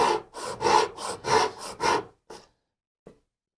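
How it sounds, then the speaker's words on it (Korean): A hand saw cuts wood at a 45-degree angle for a miter joint in steady back-and-forth strokes, about seven rasping passes, then stops with a couple of faint scrapes. "이렇게 되면 똑같이 또 45도가 톱질이 되는 거죠"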